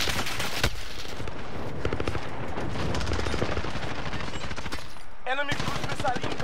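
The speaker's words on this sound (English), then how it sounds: "you want to see how overpowered this gun is?" A powerful gun firing in Call of Duty: Modern Warfare: dense, rapid automatic bursts sound loud and close almost without a break, then cut off briefly before shooting resumes.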